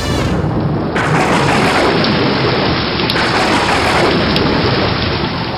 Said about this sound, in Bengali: যা, বৃষ্টি নেমে গেল।